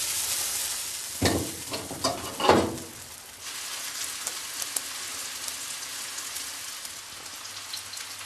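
Chopped onion sizzling and crackling in a frying pan, with a few stirring scrapes early on and a steady soft frying hiss throughout, fairly close and moderately quiet.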